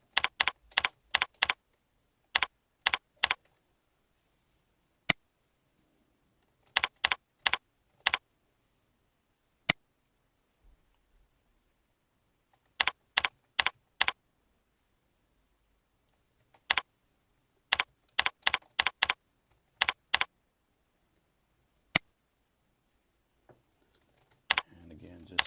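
Bursts of typing on a computer keyboard, quick clusters of key clicks separated by silent pauses, close and clear with no talk.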